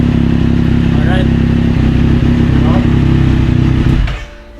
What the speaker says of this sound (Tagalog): sound check for the Akrapovic exhaust